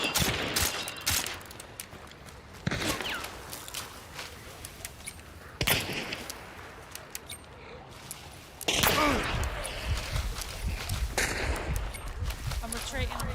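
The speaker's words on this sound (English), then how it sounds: "I'm guessing he's shooting at you, is he?" Video game gunfire aimed at the player, with several loud bursts of shots and short fusillades breaking out in clusters between quieter stretches of background noise.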